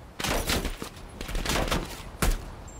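Rapid bursts of automatic gunfire ring out in the video game Black Ops Cold War, three or four sharp volleys over about three seconds, with a final loud burst near the end.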